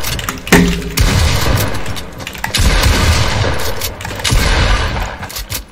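Loud, dense video-game gunfire from a Fortnite match on PC, with rapid overlapping shots and booming bursts that continue almost without pause for several seconds.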